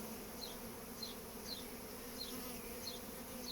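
Honeybees hum in a steady, faint drone during a swarm inspection, with regularly spaced high chirping notes repeating over the buzz; no speech.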